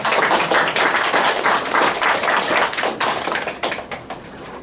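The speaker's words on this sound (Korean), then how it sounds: "우리 박수로 한번 환영해" A congregation at a Korean thanksgiving worship service claps to welcome guests, a lively burst of many hands with quick, rattling strikes that tapers slightly near the end, with no talk over it.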